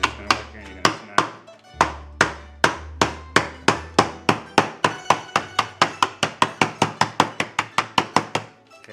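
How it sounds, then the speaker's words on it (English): Meat tenderizer pounding bagged biscotti cookies, a steady run of about thirty sharp, close hammer strikes that quicken into a fast, even rhythm, with a low hum under the first few seconds. "you get a nice meat tenderizer like this, where you have a flat edge and a sharp edge"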